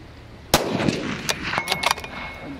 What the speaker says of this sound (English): Ricocheted off the right edge.